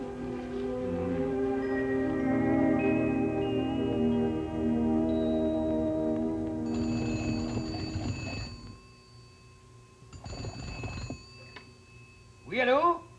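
An old telephone bell rings in long sustained bursts, bright and loud, then fades and breaks into shorter jangles near the end.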